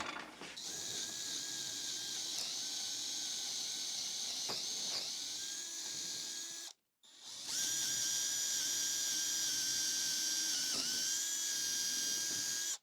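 A high-pitched power drill whines steadily for several seconds, stops briefly, then runs again close up, with a grinding mechanical edge, drilling wooden beams for a garden trellis.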